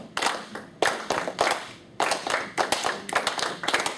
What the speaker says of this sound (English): Clap the rhythm, please.